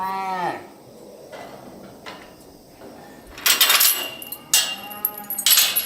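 A calf about to receive an injection lets out a loud, close moo at the start, followed by rattling and banging of gates or pen fittings, with no talk.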